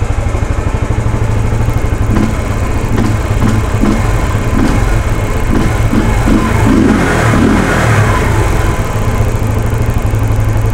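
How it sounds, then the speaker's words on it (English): A Yamaha YBR 125 motorcycle with an upgraded camshaft runs loud and close, its engine revved in a series of quick throttle blips that rise and drop back fast over a steady idle. "Pag nagre-rev tayo, guys, bumababa agad"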